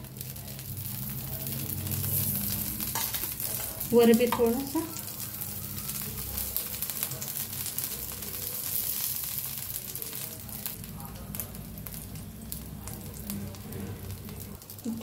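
Oil sizzling in a kadhai as moong dal fries, a steady crackling hiss throughout with a brief louder burst near the start and a voice speaking over it.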